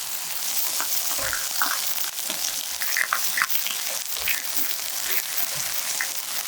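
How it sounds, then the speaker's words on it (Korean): Shiitake mushrooms pan-frying in olive oil, a soft continuous sizzle with scattered crackles and pops, fairly quiet and close, with no talking. "앞뒤로 노릇노릇하게 맛있게 구워줍니다."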